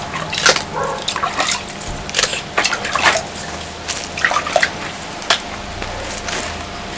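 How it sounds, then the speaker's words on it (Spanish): A freshly made broom is doused with water, giving scattered wet splashes, squishy drips and sloshing bursts at irregular intervals, fairly close and moderately loud. "le mojábamos con agua"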